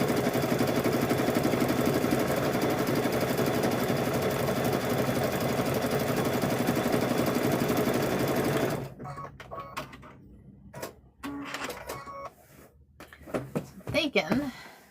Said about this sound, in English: We're gonna stitch down there.